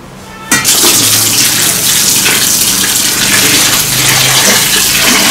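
Running tap water gushes loudly and steadily over blood tofu being washed in a kitchen sink, starting abruptly after a brief quiet moment and continuing close up without any voices.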